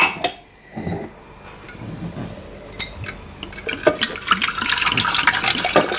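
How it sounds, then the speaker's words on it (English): Water poured into the tank of a Nespresso coffee machine, a steady splashing fill that builds and grows louder toward the end, with a few clinks of handling at the start. "So we're gonna fill the machine with water."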